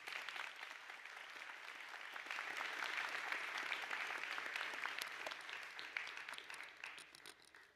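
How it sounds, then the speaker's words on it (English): A commencement crowd applauds graduates' families, with sustained clapping from many hands that swells in the middle and thins out toward the end, heard from some distance in a large venue. "Please give them a round of applause to show your thanks."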